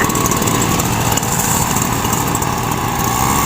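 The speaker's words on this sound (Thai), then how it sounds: "ใช้เครื่องพ่นปุ๋ย" A small motorized fertilizer sprayer engine runs steadily and loudly at a constant high-revving drone throughout, close by and with no speech.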